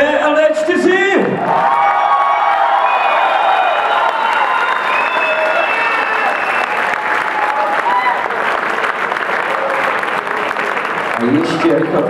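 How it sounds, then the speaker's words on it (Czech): Loud, sustained audience applause with cheers and whoops for dancers at a Czech graduation ball's opening dance, a dense steady roar of clapping lasting throughout, with voices shouting over it. "Ještě jednou speciální potlesk pro slečnu Martu, ale taky pro maturanty BLD4."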